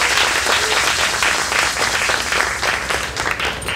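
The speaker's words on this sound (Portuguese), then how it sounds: "Palmas para a Laura, tá bom?" An audience at a conference panel applauds for Laura as she is called to the table, loud, dense clapping from many hands that stays strong throughout with slight fluctuations.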